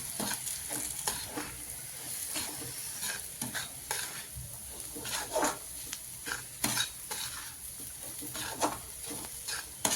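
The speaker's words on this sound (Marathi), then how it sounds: "बारीक केलेला चुरा हा त्याच्यात टाकून देऊ आपण आणि मस्त हलवून घेऊ" Crumbled chapati is stirred and tossed in a hot pan, a steady scraping, sizzling rattle with frequent spoon clinks against the metal, close and continuous for the whole stretch with no voices.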